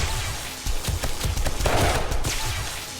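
Base traps in 7 Days to Die fire without stopping, a dense, rapid rattle of automatic shots that runs continuously and close up with no talking.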